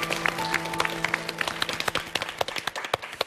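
An audience applauds to welcome guests on stage, a crisp burst of many hands clapping with distinct individual claps standing out, thinning toward the end, over a faint steady hum.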